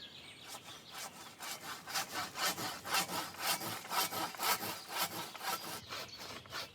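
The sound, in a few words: saw pruning an oak tree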